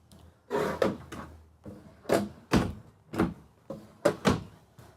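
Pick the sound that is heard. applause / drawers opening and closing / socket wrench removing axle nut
drawers opening and closing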